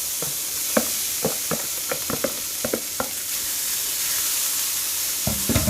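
Rice tossed onto a hot hibachi griddle with onions and mushrooms, sizzling steadily under a string of sharp spatula taps and scrapes, close and fairly loud.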